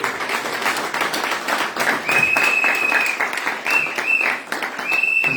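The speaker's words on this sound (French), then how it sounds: "Applaudissons pour les rois des rois." A church congregation claps and applauds steadily, a dense continuous wash of hands with a sustained high tone cutting in partway through.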